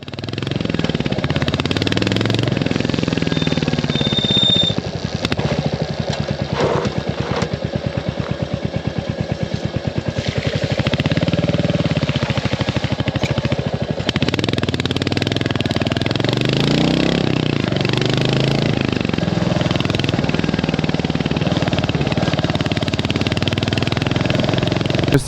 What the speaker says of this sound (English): the exhaust note sounds superb